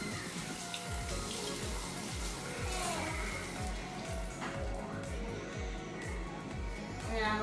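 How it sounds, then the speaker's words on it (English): A kitchen tap runs steadily while food is rinsed under it, a continuous splashing water stream close by that carries on without pause, with faint talk underneath. "Now I'm just going to rinse it to take all of the stuff off that's stuck on it."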